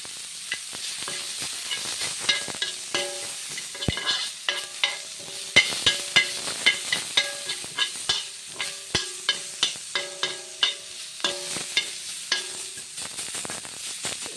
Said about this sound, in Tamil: இப்போ தக்காளியெல்லாம் கொஞ்சம் அப்படியே எண்ணெயிலே நல்லா அப்படியே வதக்கிடணும்